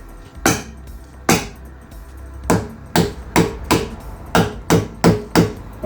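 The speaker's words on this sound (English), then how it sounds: "this is a plastic dead blow hammer, so they won't damage them" Repeated dull thuds from a plastic dead blow hammer working on a Lotus Excel engine, about ten strikes in a loose, quickening rhythm, close and fairly loud with no talking.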